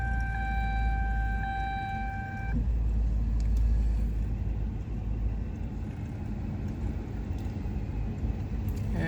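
A 2003–2007 GM car starts up and idles, following a chime of steady warning tones, its engine settling into a low, continuous rumble close by.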